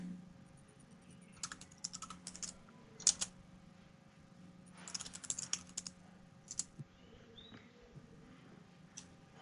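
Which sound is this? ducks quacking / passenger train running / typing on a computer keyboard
typing on a computer keyboard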